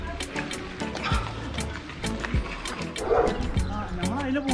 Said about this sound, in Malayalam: നായ്ക്കള് ഒരുപാടുണ്ട്.